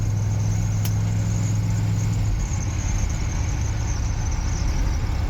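A Ford 351W V8 in a classic catering truck with an automatic transmission drones steadily on a test drive, a low engine hum that drops in pitch partway through as the gearbox shifts, with road noise continuing underneath.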